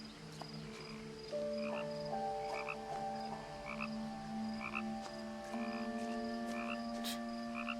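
Frogs croak repeatedly in short, regular bursts in the game What Remains of Edith Finch, layered over a steady ambient drone, with no voices.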